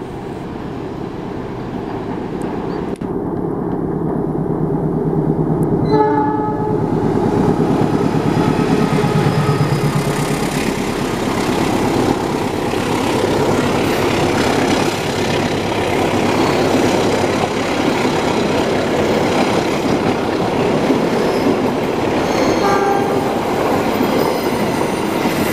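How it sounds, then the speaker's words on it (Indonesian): The Lodaya passenger train rumbles past close by in a long, loud, steady roar of wheels and carriages, with a brief horn blast early on. "Nah, itu dia kereta api Lodaya."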